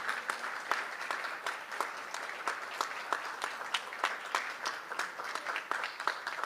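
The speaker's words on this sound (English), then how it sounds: "A round of applause, please." Audience applause at a Philippine presidential event for the signing of the SIM card registration law, a fairly quiet and steady patter of many hands with a few sharper individual claps standing out, continuing for several seconds.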